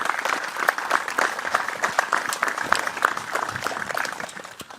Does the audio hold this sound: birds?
no